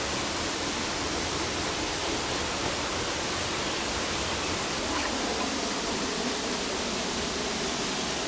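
Steady, dense roar of a majestic waterfall heard up close during a solo hike, a continuous broadband wash of falling water with no voices.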